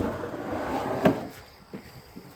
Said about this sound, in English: But then you've got the pull-out tub.